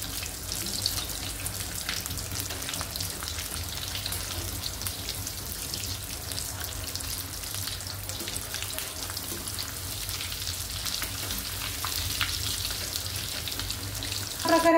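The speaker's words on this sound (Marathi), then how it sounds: "आपले सगळे वडे जे आहेत ते तळून झालेले आहेत" Kat vada frying in hot oil, a continuous bubbling sizzle that runs steadily for the whole stretch with a faint clatter near the end.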